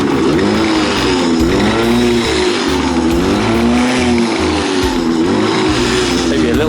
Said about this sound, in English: Let's just kick her over again. Original kickstart.